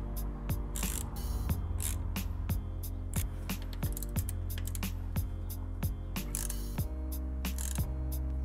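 Fork sliders are tightened on a Ducati Monster 796 with a ratchet, giving a steady, evenly spaced series of metallic clicks over a low droning background, close and with no voices.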